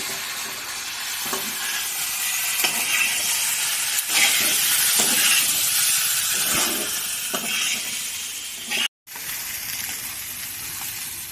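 Eggs fry in a pan with spices, giving a loud, continuous hiss and sizzle close by, with occasional scraping taps from stirring and a brief cut of silence before the sizzle resumes.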